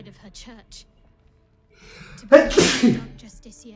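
Brief speech, a short intake of breath, then a single loud sneeze close to the mic, followed by a little more talking.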